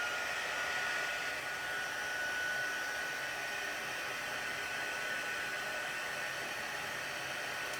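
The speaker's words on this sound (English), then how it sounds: "then we're just gonna take our heat gun and emboss that" A heat gun blows hot air to melt embossing powder on paper, a steady, even whoosh that holds the same level throughout, close and with no talk.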